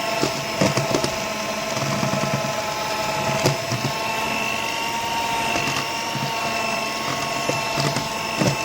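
A blender runs on brownie batter with a steady mechanical whir, a grinding, rattling drone that holds close and loud throughout, punctuated by small clicks and knocks.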